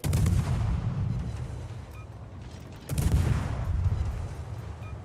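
Warship main batteries firing in the naval game World of Warships, two heavy rumbling salvos a few seconds apart, each a loud booming blast that trails off into a long roar, with no voices.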